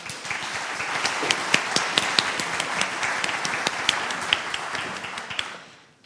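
Audience at a staged mock tribunal event applauding a witness called to the stand, a dense steady burst of many hands clapping for about six seconds before fading out, with no talking.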